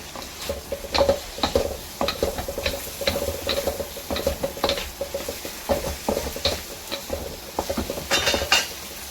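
Beancurd and seafood are stirred in a pan on a stove, with steady rhythmic scraping and clattering of a utensil against the pan over a faint sizzle, close and continuous with no talking.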